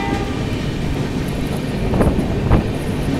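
A double-decker train runs fast on the outskirts of Arakkonam, a loud steady rumble and rush heard from on board, with two sharp rail knocks close together near the end.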